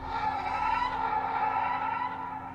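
A car pulls away hard, its engine revved to the redline in a steady strained whine with a high tonal shriek, loud and continuous before easing slightly at the end, with no talking.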